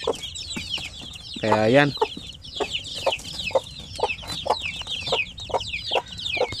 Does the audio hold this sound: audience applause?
no